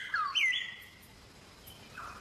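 A palm cockatoo in rainforest gives a couple of sharp, rising whistled calls near the start, followed by quieter distant call notes over faint ambient background, with no talking.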